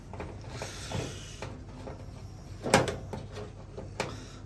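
Small metal screwdriver turning a screw on a Hotpoint BWD129 washer dryer, giving quiet ratcheting clicks and scrapes with a couple of sharper ticks, close by and fairly faint, with no talking.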